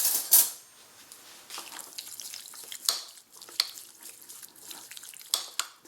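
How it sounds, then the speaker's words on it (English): Spices are stirred into a chicken sausage mixture in a pan, making wet, scraping clicks and soft sloshing pulses at an irregular pace, close and moderately loud, with no voices. "we're going to stir those spices into the dish"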